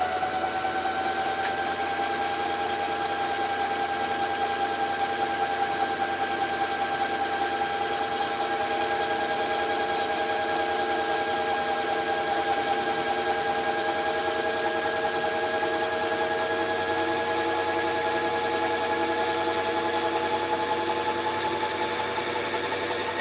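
A bobbin winder spools thread with a steady, continuous motor hum and whir, droning evenly throughout at a consistent pitch with no talking.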